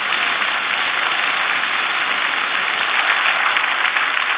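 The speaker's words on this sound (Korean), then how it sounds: "우리 변성우 목사님 위해서 큰 박수 한번 하세요" A church congregation at a dedication and ordination service applauds a pastor, loud sustained clapping that holds steady throughout.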